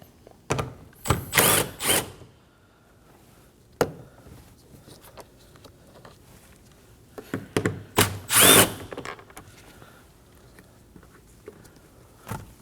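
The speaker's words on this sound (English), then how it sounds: "Now we can go ahead and remove these two 10mm bolts that are on the handle." Power tool driving out 10mm bolts on the mirror handle of a Nissan Armada, several short whirring bursts with quiet gaps between them.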